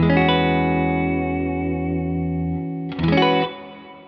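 A bright Gretsch electric guitar chord, tone knob fully up, rings out and sustains, then a second strummed chord sounds briefly before fading, with a sparkly, chiming tone.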